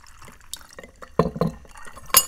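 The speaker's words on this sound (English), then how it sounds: "And I'm going to pour the berry in this one." Berry kombucha is poured into a glass, making short splashing and trickling bursts with a few light clinks of glass, fairly close and at moderate volume.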